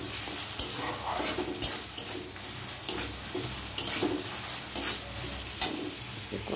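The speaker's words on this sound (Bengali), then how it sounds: "এবার সব উপকরণগুলোকে একটু জল দিয়ে নাড়িয়ে নেব" A spice mixture being stirred with a little water and salt in a cooking pan, the spoon scraping in steady strokes with a soft sizzle throughout and sharper clinks against the metal at regular intervals.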